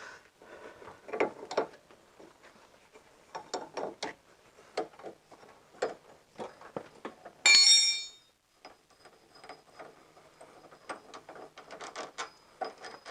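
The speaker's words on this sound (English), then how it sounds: "I might just undo this nut as well, just to make it easier to disassemble the whole thing." Spanner working a nut loose on the radius rod of a VZ Commodore, a series of faint metallic clicks and ratcheting ticks spread through the clip, with one loud sharp rasp partway through.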